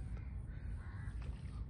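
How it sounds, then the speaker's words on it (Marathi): A crow caws in faint, harsh calls, set against a steady low rumble of outdoor background noise, with no one talking. "कावळा ओरडतोय"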